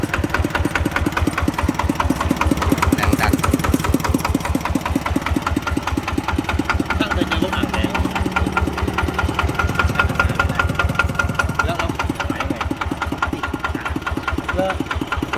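Small diesel engine of a walking tractor idling with a steady rapid chugging knock, close and continuous, a faint voice briefly underneath.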